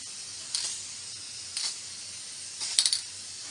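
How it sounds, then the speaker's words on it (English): Spray varnish is applied to a wooden table in short hissing bursts, three or four separate sprays with quiet gaps and a quick stuttering cluster near the end. "The table is finished with spray varnish."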